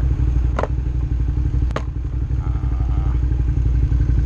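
Worn car shock absorbers clunk while driving, giving two sharp knocks and some lighter rattling over a constant low road and engine rumble heard from inside.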